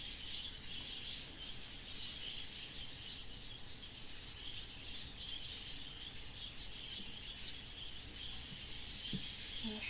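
Birds chirping in the horror adventure game The Last Door, a constant bright twittering texture over a soft rustling bed, steady and unbroken with no voices.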